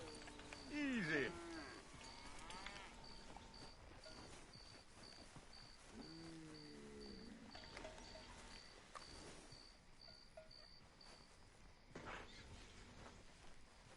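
Cattle lowing in Red Dead Redemption II, a loud close moo near the start and a softer one midway, over steady outdoor game ambience with faint background sounds.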